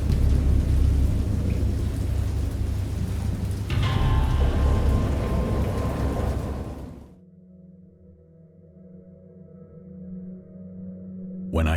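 Storm ambience from the Dagon visual novel game: heavy, steady rain with rumbling thunder fills the first seven seconds at full loudness, then drops abruptly to a quieter, lower drone with faint tonal hum before a brief swell at the end.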